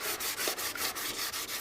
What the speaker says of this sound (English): sand up in these grooves.